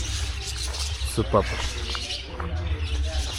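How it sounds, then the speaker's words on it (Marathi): Birds chirp and call at a resort amid nature, with scattered tweets and a few pigeon-like coos at a distance, heard under a background of people talking. "पक्ष्यांचा किलबिलाट"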